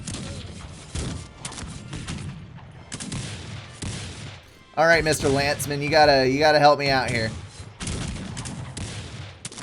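Cannon and musket fire from a Cossacks 3 skirmish battle, a burst of crackling volleys and booms in the middle with scattered shots around it, heard under someone talking over the game.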